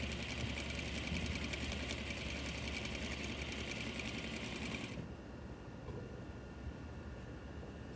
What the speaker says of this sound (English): let the fabric and the machine work together, let the machine pull the fabric through